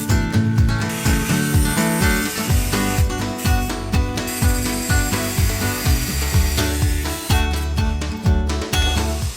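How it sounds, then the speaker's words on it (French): An angle grinder cuts through 2 mm stainless steel sheet, its harsh whine pulsing in repeated short passes with gritty bursts of metal-on-abrasive grinding, close and steady throughout. "dans un premier temps je commence à la meuleuse"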